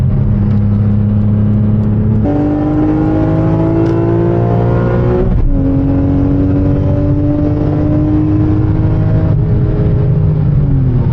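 A small green Honda car drives along a rough, rundown road, its engine droning close and steady and rising in pitch as it revs up through the gears, with no talking.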